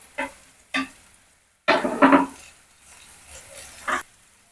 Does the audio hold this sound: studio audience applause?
no